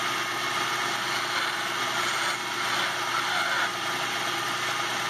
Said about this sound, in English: Now I'm going to groove the inside of it so that when I put the epoxy in and I groove the tenon material, they'll lock in.